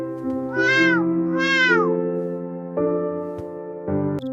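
A cat meows loudly at dawn, two long drawn-out cries close by, followed by steadier sustained tones with no talking.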